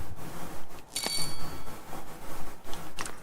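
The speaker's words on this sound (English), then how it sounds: "It would ring that much when it got power." A small bell on a homemade automated lunchbox-making device gives one brief, bright ring when power arrives, set among quieter rubbing and handling noises.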